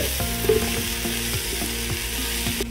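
Steady sizzling and crackling of mint and coriander leaves sautéing in a pan for biryani, with light clinks and scraping of stirring throughout, no voices.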